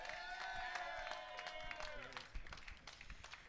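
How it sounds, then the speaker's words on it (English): Crowd at a 420 cannabis rally in Trenton applauding, scattered clapping and cheering under a sustained shout that fades, with people talking nearby. "let's all give a hand of applause to Vanessa Maria"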